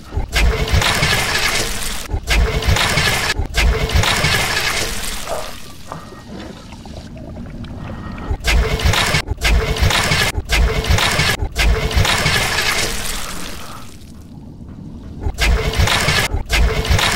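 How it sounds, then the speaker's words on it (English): Escape pod engine in the VR game I Expect You to Die, starting up repeatedly: loud roaring bursts broken by sharp cutoffs and a couple of quieter lulls, with no voices present. "Please start engine manually."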